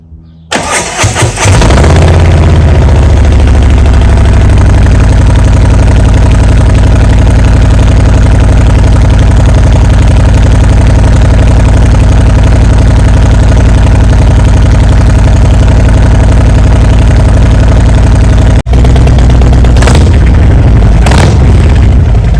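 A deep, loud 2017 Harley-Davidson Street Glide Special with a tuned exhaust and baffles starts and settles into a steady, throaty idle with a choppy low rumble, briefly revving near the end.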